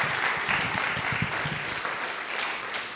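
A church congregation applauds together as an offering of praise during a Spanish-language service, a steady dense wash of many hands clapping that stays even and fairly loud throughout.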